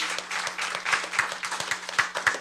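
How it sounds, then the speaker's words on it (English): Audience applause at a junior science quiz as school team members are introduced, a steady wash of many hands clapping with a few sharper claps standing out, moderately loud and with no talking over it. "Let's give them a big round of applause."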